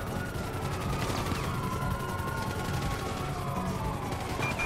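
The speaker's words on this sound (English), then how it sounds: "Units reporting shots fired at an officer on South Boulevard Del Perro." Rapid gunfire rattles in a GTA 5 street shootout on Boulevard Del Perro, dense repeated bursts layered over a wailing police siren and general chaos, moderately loud and continuous.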